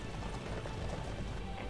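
Horses gallop in the strategy game Cossacks 2, a dense, rapid clatter of many hooves pounding together at close range for a brief burst, with no talk.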